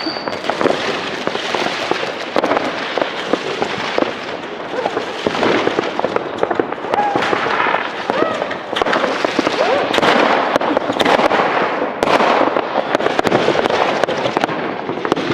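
New Year's Eve fireworks going off outdoors, a dense continuous barrage of crackling bursts and pops at fairly close range, loud throughout, with occasional faint voices underneath.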